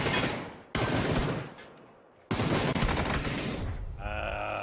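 Gunfire in the PUBG video game during an esports match, with bursts of rapid shots and sustained volleys coming loud and close in two long stretches broken by a quieter pause.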